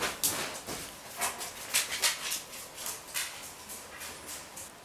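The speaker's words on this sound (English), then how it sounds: "We had all sorts of distractions there with my doggy." A pet dog panting and whimpering nearby, quick rhythmic breathy puffs with soft high whines repeating over several seconds, fairly close and without speech.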